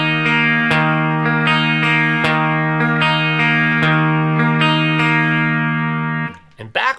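Sustained droning electric guitar line from the outro of a song, a steady held low note with shifting upper tones, loud and close, with brief plucked attacks, ending in a short burst of speech.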